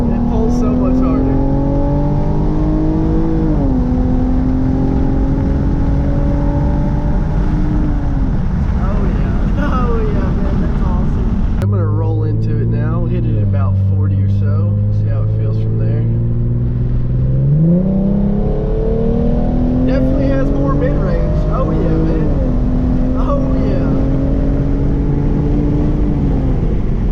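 Genesis Coupe 3.8 with an AlphaSpeed tune revving hard in first gear, a loud, close engine note climbing and dropping through several pulls, with a brief deeper drone midway, while a person talks over it.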